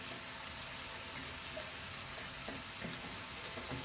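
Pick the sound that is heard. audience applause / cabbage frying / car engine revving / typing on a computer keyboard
cabbage frying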